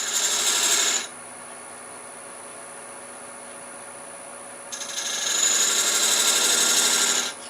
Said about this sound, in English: using our point tool, we're just going to put just a couple of little decorative rings there